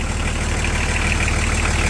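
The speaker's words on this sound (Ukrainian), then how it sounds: "Заведений двигун, радіатор сухий." A VW LT 40 twin-rear-wheel truck's engine idles steadily close by, giving a low, even rumble with no talk over it.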